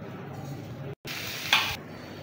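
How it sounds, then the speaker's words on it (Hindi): Spices and meat frying in a pan, a soft continuous sizzle with a brief stirring scrape, a momentary gap and a short brighter hiss near the end, fairly quiet and without talking. "थोड़ा सा इसे हम भुनाई करेंगे"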